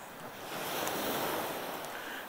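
Surf washing onto a sandy beach in Denmark, a steady broad rush of waves with some wind noise, swelling slightly in the middle and holding fairly even throughout, with no voices.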